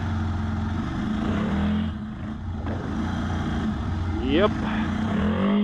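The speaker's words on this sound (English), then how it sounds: "Oh man, the rear tire slide." The rear tire of a Ducati Scrambler motorcycle slides on off-road ground while the engine drones and revs close by, with a brief rising whine near the end. A voice speaks briefly under it.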